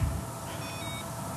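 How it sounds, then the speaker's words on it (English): An insulin pump gives a short series of faint electronic beeps just after its battery is changed, thin tones heard over a steady room hum. "Oh, it beeps."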